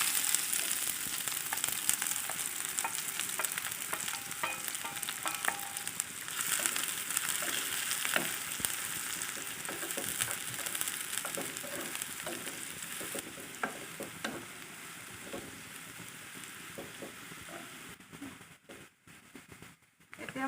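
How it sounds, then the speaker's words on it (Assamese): Chopped onions frying in hot oil in a pan for an Assamese rohu fish curry: a steady, dense sizzle with crackling spatter and occasional stirring scrapes, close and continuous, easing slightly near the end. "এয়া তেল গৰম হৈ গৈছে, মই ইয়াতে প্ৰথমতে পিঁয়াজখিনি দি দিম।"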